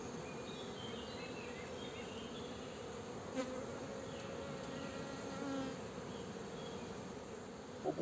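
Honeybees hum at a hive in July, a soft continuous buzz with a few individual bees passing close, faint and steady with no voices.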